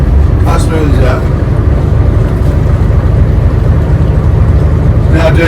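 A Gardner diesel engine idles at about 200 RPM aboard a 55 ft Luxemotor Dutch barge, a steady, deep, smooth low throb running continuously and close by, with voices speaking faintly over it.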